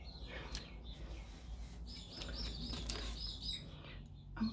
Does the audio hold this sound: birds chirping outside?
yes